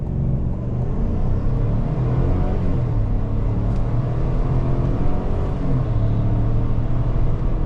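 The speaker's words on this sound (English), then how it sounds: "Building up the revs and launch." A 2026 Chevy Tahoe Z71 building revs and launching from a standstill, a loud, continuous deep engine roar heard from inside the cabin, rising steadily with no voices.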